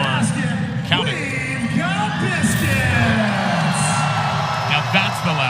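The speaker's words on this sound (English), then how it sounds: "Maybe one of the loudest cheers we've had, and animated cheers at that." A packed women's college basketball arena crowd in a Pitt vs. Virginia Tech ACC game roars with loud, sustained cheering, whoops and yells swelling together, with a commentator's voice talking over the din.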